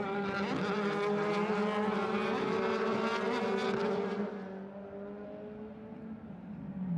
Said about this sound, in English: So the best of the Audis accelerating out again.